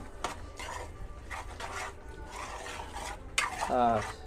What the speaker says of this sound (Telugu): శుభ్రంగా చక్కగా కలుపుకున్నామండి అంతా